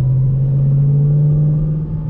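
Steady low engine rumble from a 2013 Camaro 1LE with a stage 3 clutch and short throw shifter, heard from inside the car while driving at an even pace, no talk.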